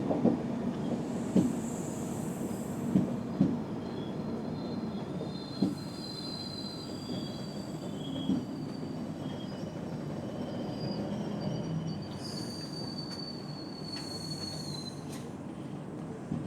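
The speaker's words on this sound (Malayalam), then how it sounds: "ഓപ്പോസിറ്റ് ലൈനിൽ ഒരു ട്രെയിൻ വരുന്നുണ്ട്." Train passing on the opposite line, heard from on board the Kerala Express: a continuous rumble with occasional clanks and high wheel squeals that rise near the end, steady and moderately loud.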